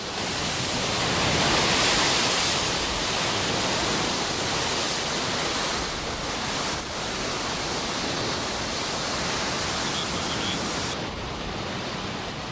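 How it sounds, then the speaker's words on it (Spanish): Waves pound the rocky volcanic coast of Timanfaya National Park on Lanzarote, making a continuous, loud broadband roar of surf that swells and eases slightly over time, with no voices. "las rocosas costas del Parque Nacional, sobre las que se baten con ímpetu las olas"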